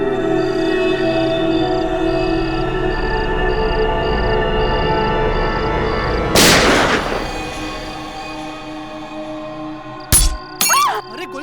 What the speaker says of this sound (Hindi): अरे गोली चलने की आवाज आई।